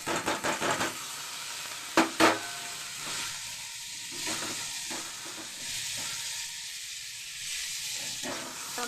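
Tomatoes with onions sautéing in a pan: a few quick spoon taps and knocks at the start, then a soft, continuous sizzle and hiss from the pan, close and fairly quiet.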